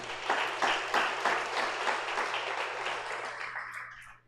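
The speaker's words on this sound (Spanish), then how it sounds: "¿Cuántos dan un aplauso al Señor por eso?" A church congregation applauds together, a dense burst of many hands clapping that slowly fades over several seconds, heard alone without speech.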